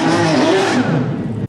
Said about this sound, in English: let's talk about race car exhausts